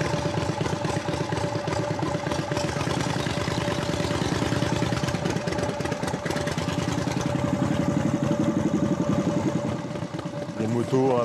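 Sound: Harley four-stroke motorcycle engine idling

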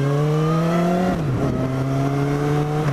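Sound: motorcycle exhaust with silencer fitted

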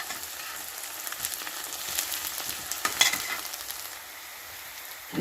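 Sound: onions frying in pan for Punjabi-style eggplant bharta

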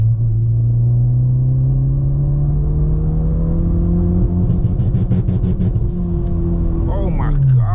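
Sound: Honda Civic Si engine revving, roller anti-lag with stage 5 clutch

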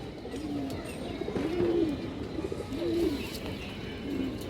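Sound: female Khoyragola pigeon cooing

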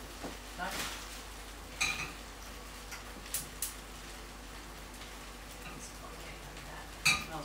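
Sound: spring onions frying in a pan

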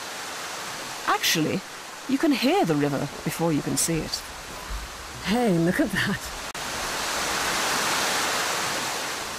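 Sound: River Misbourne flowing beneath a former silk mill

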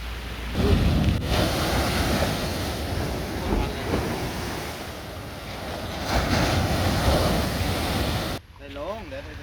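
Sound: sea waves and wind

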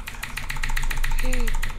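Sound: motorcycle engine in the video game Unturned

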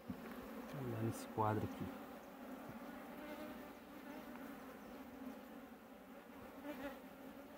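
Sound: honeybees buzzing at a hive with new Italian queen

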